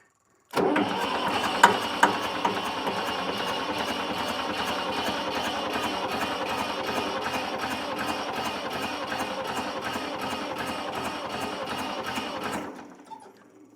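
A Massey Ferguson 130 tractor engine, not hooked up to anything, starts abruptly and runs with a fast, even chugging rhythm for several seconds, then dies away; no talk.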